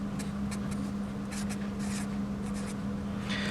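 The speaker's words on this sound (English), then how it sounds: "So we'll write that down here." A pen scratches out figures across a page in short, quick strokes, close and fairly quiet over a steady low hum, with brief pauses between bursts of writing.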